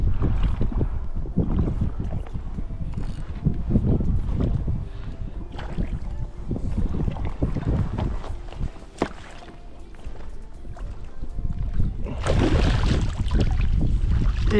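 Wind blowing over a lake while fishing from a boat in autumn for pike, a loud continuous rumbling buffet of wind noise with water and boat knocks, rising sharply near the end.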